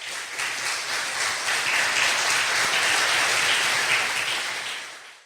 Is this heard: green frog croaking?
no